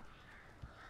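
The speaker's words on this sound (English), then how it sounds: "Save Barry from the birds." Crows attack in the Alan Wake video game, a faint, brief caw rising once over a steady hiss of ambient game noise.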